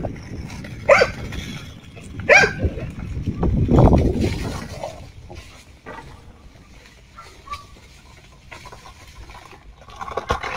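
A dog barks outdoors: two sharp, separate barks near the start, then a burst of rustling noise and softer scattered sounds trailing off, with light background chatter.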